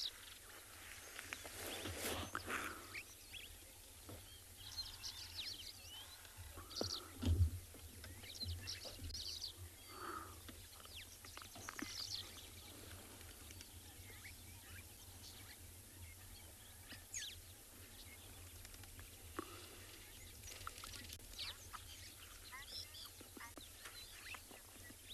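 Scattered bird calls and chirps drift in from a distance over a quiet outdoor background at sunrise on safari, with a brief low thump partway through.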